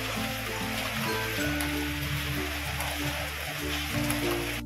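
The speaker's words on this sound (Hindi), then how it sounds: "बहुत जोरों की बारिश है," Heavy rain pours steadily during a monsoon downpour at a home, a dense continuous hiss of water on surfaces, with low background music or hum running beneath it and no clear talk.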